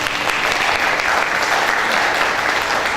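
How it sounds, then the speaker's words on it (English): Steady, full applause from an audience at an ELT seminar, welcoming a publishing company's chief officer to the stage; loud and continuous throughout with no voices on top. "Claps, please."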